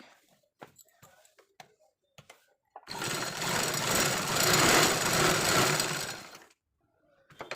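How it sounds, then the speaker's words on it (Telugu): A sewing machine stitches old jeans in one steady, loud, whirring run of about three and a half seconds, with short taps and clicks before it and after it. "రెండు రెండు సార్లు కుట్టు వేసుకోవాలి"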